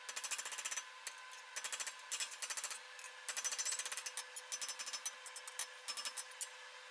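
Rapid, ringing metallic blacksmith hammer strikes forging a metal bar, in quick bursts with short pauses, close and bright.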